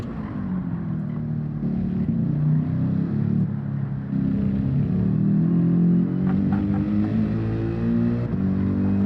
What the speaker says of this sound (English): Especially in first gear, you automatically bounce off the rev limiter.